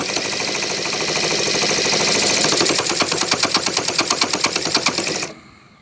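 A tiny 7cc model engine sputters as one cylinder tries to fire, a rough hiss turning into a rapid, loud stuttering chatter that stops abruptly.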